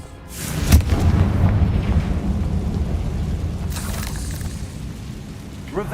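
A Confringo fire spell blasts in Hogwarts Legacy, a loud booming explosion that rolls on as a sustained low rumble for several seconds, with a brief crackling burst at the start and another near the end.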